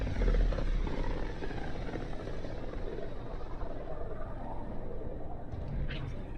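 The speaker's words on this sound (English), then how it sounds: "Almost sounds like a chopper." A helicopter-like chopping drone from a video game rumbles continuously and fairly loud, with a brief higher whine near the end.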